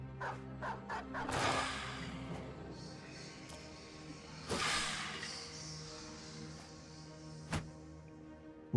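Dogs bark in the video game Battle Brothers, several quick yips and barks up front, then scattered barks amid battle clatter and swooshes, fairly faint overall.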